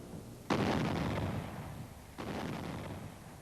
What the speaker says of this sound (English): artillery started to bombard German positions on the Western Front